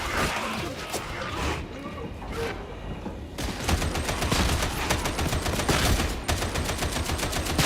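Autogun fire in the co-op shooter Darktide: dense bursts of rapid automatic gunfire with booming impacts, loud and continuous, briefly easing before a heavier sustained barrage.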